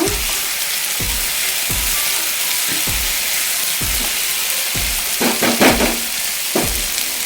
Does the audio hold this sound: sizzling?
yes